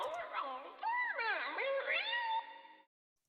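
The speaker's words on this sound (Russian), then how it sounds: "после чего также вот эту мяуканье кота" A cat meows in a long, wavering call that bends down and back up, loud and close, before stopping abruptly.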